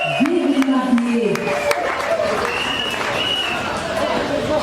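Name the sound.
wedding guests applauding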